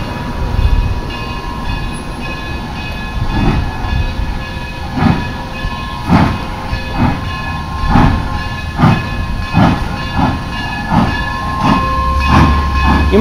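A heritage steam train between Chama and Durango pulls away, sending out loud rhythmic clanks and bursts of chuffing close by over a constant hiss and whistle-like tones, with no talk.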